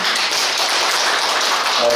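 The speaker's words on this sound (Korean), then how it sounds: "박수 한번 부탁드리겠습니다" Audience at an exhibition event breaks into steady, dense applause, a continuous wash of many hands clapping close by for the full stretch without pause.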